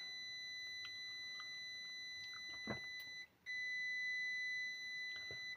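A Pulso 12610 battery charger under repair beeps, though it should not, with a steady high-pitched tone that holds continuously, briefly cuts out, then resumes, with faint clicks and handling noises beneath.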